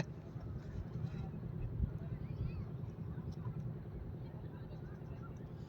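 A boat engine's steady low drone runs throughout on the Meghna River, even and continuous, with wind rumble and no clear speech.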